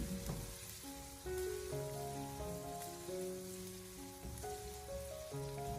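Minced pork stir-frying over medium-low heat in a wok with a little oil, a steady crackling sizzle with scraping and stirring throughout, close and moderately loud, no talk.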